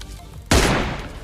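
A single loud, sharp sniper rifle shot in PUBG, a sudden crack with a short booming tail, following a quiet stretch.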